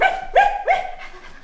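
A dog barks three times in quick succession, each a sharp, close, fairly loud bark with a slight whine, the last one fading softer; no talking.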